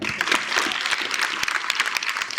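Schoolchildren in a government school classroom clap together for classmates, a close, dense burst of quick, uneven applause that continues steadily without speech.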